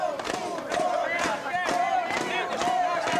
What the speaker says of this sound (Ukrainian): Робочий день працівників Генпрокуратури розпочинається під вигуки фермерів і пайовиків